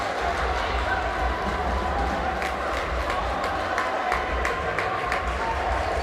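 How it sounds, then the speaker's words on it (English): Basketball crowd in a Ugandan National Basketball League game, a steady roar of cheering and clapping as the game is tied and heads to overtime, dense and continuous with a commentator's voice over it. "The crowd on their feet."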